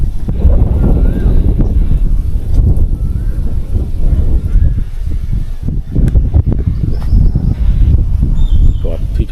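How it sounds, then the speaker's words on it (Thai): Strong wind blows steadily across a campsite at Than Thiw Pha in Chonburi, Thailand, rumbling loudly and continuously against the microphone, with faint background sounds underneath. "รับลมพอดีเลยคืนนี้ลมมาฟังเลย"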